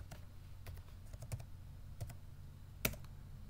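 Computer keyboard keys clicked while entering a password during web server firewall setup, a handful of sparse, quiet taps spread across a few seconds over a low background hum, with one sharper keystroke near the end.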